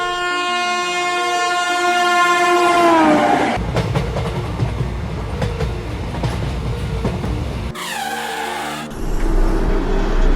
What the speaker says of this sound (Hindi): तब तक ट्रेन आ जाती है।